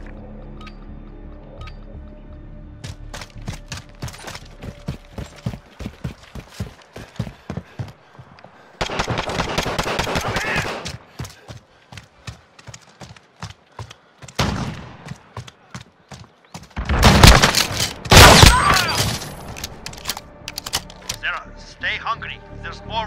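Gunfire in Call of Duty Modern Warfare gameplay, with scattered shots and rapid volleys growing heavier toward the end, interspersed with quieter stretches and voices speaking.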